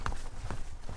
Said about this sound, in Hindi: किसी की चलने की आवाज सुनाई दी।